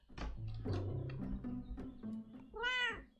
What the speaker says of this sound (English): A cat is like super close.